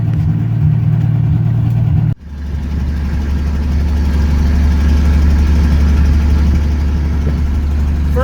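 A 1966 Ford Mustang running with no muffler, a loud, deep, rough engine drone close by that dips briefly, then settles into a heavier, steady rumble with no talk.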